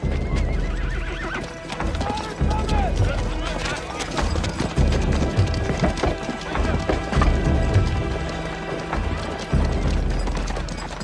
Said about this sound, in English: They reined back on their horses